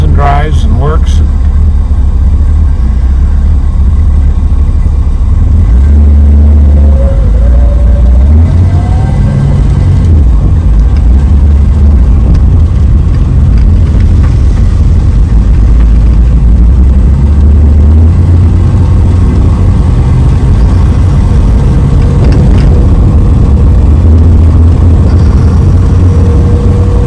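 A 1966 Ford Mustang fastback engine drones loudly while driving through rush hour traffic at night, with a heavy low rumble and shifting revs throughout, and a person talking over it.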